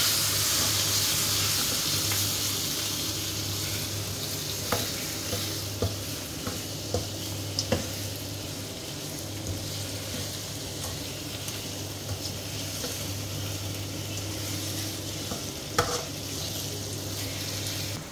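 Country chicken pieces for a Chettinad nattu kozhi dish sizzle steadily in a hot pan, with a continuous close frying hiss and occasional clicks and scrapes of stirring.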